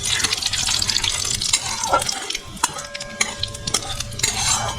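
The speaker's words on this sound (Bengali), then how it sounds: "40 সেকেন্ডের মতন এটা আমি একটু ভেজে নিলাম" A paste of boiled tomato and green chili fries in a pan for a pabda fish curry, giving a wet, bubbling sizzle broken by repeated stirring scrapes and knocks, close and fairly loud, with no talk.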